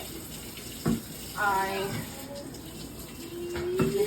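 Warm water runs from a tap with a steady splashing hiss, while a voice speaks briefly and a few light clicks and knocks sound near the sink.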